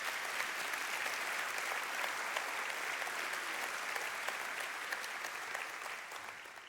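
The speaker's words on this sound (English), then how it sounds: "Just clap again for the Hope Center" A banquet crowd at the Hope Center's 2022 annual dinner applauds in a soft, even wash of many hands heard from a distance, tapering off near the end.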